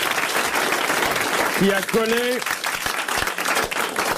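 Studio audience applause on a 1985 French television talk show, a loud continuous wash of clapping throughout with a voice speaking briefly over it.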